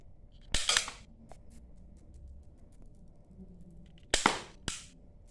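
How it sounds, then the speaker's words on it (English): Two sharp snapping shots from a toy gun hitting a cardboard target, each followed by a quick softer click or rattle, close and fairly loud against a quiet room. "now let's just go ahead and shoot this one more time to see if I'm really good at shooting a target here"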